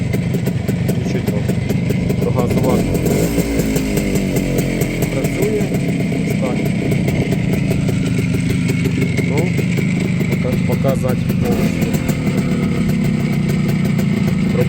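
A 1993 Minsk motorcycle engine idles steadily with a low, even rumble throughout, while a person talks over it.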